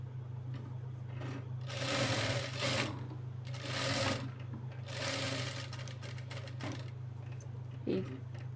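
A sewing machine stitches the slit of a child's lehenga blouse in three bursts of rapid whirring, separated by pauses over a steady low hum, with a brief click near the end.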